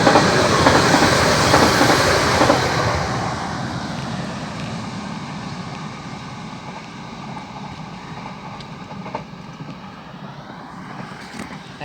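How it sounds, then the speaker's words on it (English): A train passes close by on a railway, loud roaring and clattering at first, then fading steadily into a distant rumble with a lingering high rail hum. "There's a barrow train's just come past"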